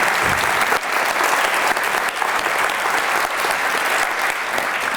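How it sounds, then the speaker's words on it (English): A festival audience at the Edinburgh TV Festival 2018 gives sustained applause to a welcomed guest, thick steady clapping from a large crowd lasting several seconds without speech. "Give him a round of applause, please."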